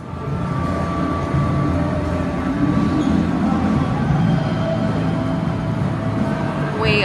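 A steady rumbling train ride, a continuous low roar with faint tonal whine and a brief squeal near the end.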